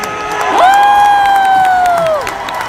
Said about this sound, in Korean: 이 무대 재미있게 즐기고 계신 여러분들 다시 한번 박수와 감사!